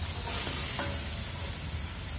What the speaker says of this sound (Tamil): இப்போ காலிஃப்ளவரை சேர்த்து ஒரு ரெண்டு நிமிஷம் போல் நல்லா கலர் எடுத்துக்கலாம்.